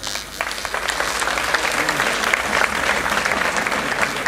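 Steady applause from a large crowd at a National Unity and Armed Forces Day ceremony fills the whole clip, a dense, continuous clatter of many hands clapping at once.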